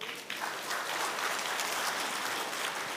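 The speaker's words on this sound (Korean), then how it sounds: "박수 한번 쳐주세요" Applause from a church congregation during a Lenten early-morning prayer service, a short burst of steady, fairly faint clapping heard from across the room, with no talk over it.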